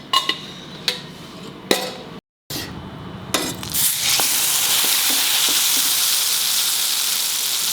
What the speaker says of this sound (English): Let me fry one.